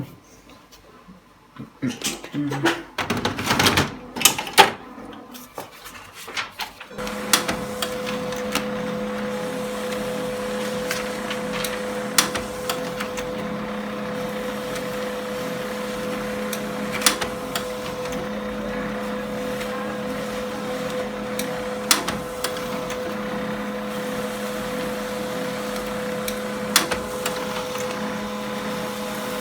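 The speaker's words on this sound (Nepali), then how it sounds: "फेरि अर्को प्रिन्टर हामी यहाँ चेक गर्दैछौँ।" A Canon LBP 2900 laser printer runs after some brief clicks and handling noises, then settles into a steady mechanical hum with a low tonal drone and occasional small ticks, close by and alone.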